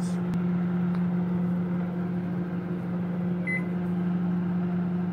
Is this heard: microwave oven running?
yes